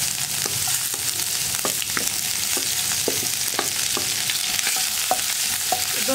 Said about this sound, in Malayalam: ആദ്യം നമ്മൾ ചേർക്കുന്നത് ഇഞ്ചിയും വെളുത്തുള്ളി.